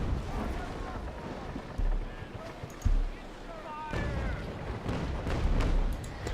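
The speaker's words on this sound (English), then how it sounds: "hopefully giving these a bunch of cannonballs up these guys' kisser" Ship cannons in the naval game Naval Action Legends boom in heavy low thuds amid a rumbling battle background, with a few distinct louder blasts and a speaking voice over the action.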